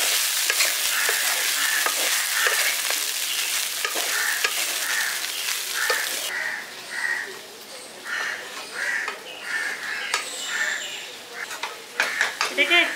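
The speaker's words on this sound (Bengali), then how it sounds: "চিড়েটা দিয়ে দিয়েছি, এবার এটাকে মিশিয়ে দিচ্ছি ভালো করে।" Flattened rice (poha) being stirred and fried in a pan, village style: repeated scraping strokes over a steady sizzle, with crows cawing nearby in the background.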